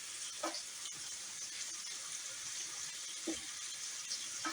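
Turkey breast frying in oil over turned-up heat to crisp it, giving a quiet, steady sizzling hiss with a few soft pops and brief clinks scattered through.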